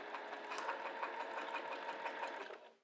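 A sewing machine stitches a zipper pouch at a stitch length just under 3. It runs in a steady, rapid mechanical whir with a rhythmic needle chatter, close and alone, then winds down at the end.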